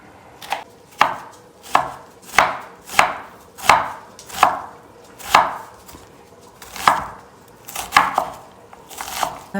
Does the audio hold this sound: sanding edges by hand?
no